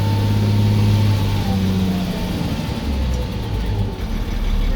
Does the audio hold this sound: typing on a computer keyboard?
no